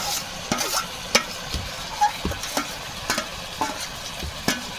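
Ground dried chili paste stirred into a sizzling pan while cooking mutton, with steady frying crackle and repeated scraping strokes of a spoon at a close, moderate level.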